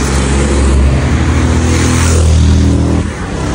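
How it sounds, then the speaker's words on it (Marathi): Fast cars rush past on a road along the Konkan coast near Shrivardhan, a loud continuous engine roar and tyre rush close by that eases slightly near the end. "लय जोरात गाड्या आहेत."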